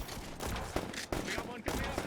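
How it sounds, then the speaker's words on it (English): Covering gunfire in the VR game Neon Divide: a few sharp shots over a steady, dense wash of battle noise, with a voice speaking briefly in between. "There's cover fire going through."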